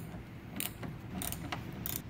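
A 17 mm wrench turns the nut on a Saab hatchback antenna mast, giving a few faint, close metallic clicks and ratcheting ticks in quick succession over a quiet background.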